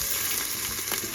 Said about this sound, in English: can see it starts to sizzle, and you cook it until it's going to be translucent, just for a few minutes.